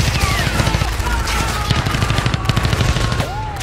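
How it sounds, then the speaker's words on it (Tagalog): Rapid automatic gunfire rattles in a dense, loud continuous burst, a soldiers' firefight in a dark forest in Maguindanao, with faint shouting mixed in. "mga putok na agad ng baril"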